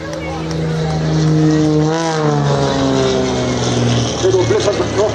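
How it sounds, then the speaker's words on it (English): An aerobatic aircraft at an airshow gives a brief throttle blip, its engine note rising and falling in a strong, close drone that fades toward the end. "Little blip of the throttle just to make sure we know he's there"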